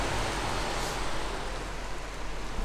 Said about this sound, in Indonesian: Udah hujan, gede lagi.